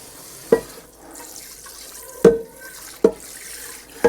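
Water tipped out of a cast iron pot into a kitchen sink, heard as a few sharp splashing bursts spaced apart over a quiet background with faint trickling between them.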